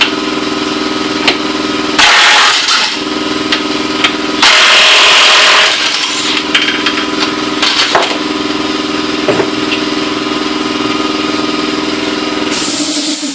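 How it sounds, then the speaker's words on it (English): A DeWalt DCF899 impact wrench zips off nuts in several loud, close bursts of rattling hammering, separated by stretches of steady background hum. "I'm going to go ahead and take them off with the Dewalt."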